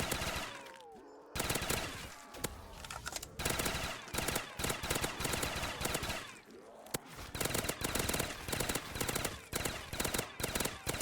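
FAL rifle fire in a round-based shooter game, dense rapid bursts of loud gunshots repeating almost continuously with short pauses between volleys, close and sharp.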